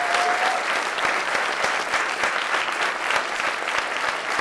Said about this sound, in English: a real incredible round of applause for all 8 teams